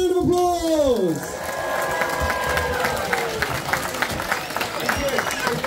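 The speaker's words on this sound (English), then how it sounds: "Please give Adam a big round of applause." Crowd applause and cheering at an outdoor chilli eating contest at a chilli festival, steady clapping filling the scene, preceded by a brief voice with a descending tone at the start.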